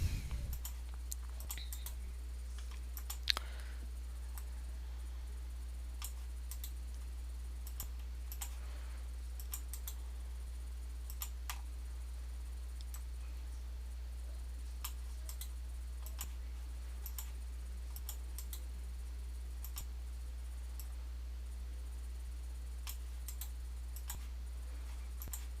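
Computer mouse clicking while digitizing a design in Embird embroidery software: sparse, faint, scattered clicks over a steady low electrical hum, with no talking.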